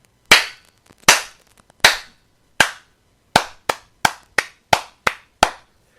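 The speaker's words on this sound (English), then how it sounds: "Round of applause, everybody." Ten sharp, separate hand claps ring out alone against near silence, spaced slowly at first and then quicker in a loose rhythm, each loud and close with a short decaying tail.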